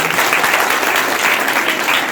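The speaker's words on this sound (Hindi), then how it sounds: "मैं चाहूंगा आप इन सभी बच्चों के लिए एक बार तालियां बजाएं" Village audience at a Khelo India gold medal felicitation applauding the children, loud, dense, continuous clapping throughout.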